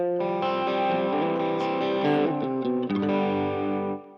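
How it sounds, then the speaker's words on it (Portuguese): A crunch-distorted electric guitar plays through an HX Stomp preset capture with gentle reverb, sustaining overdriven chords for several seconds before they cut off. "Esse crunchzinho é uma captura que eu fiz no preset do"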